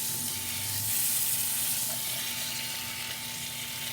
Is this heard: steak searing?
yes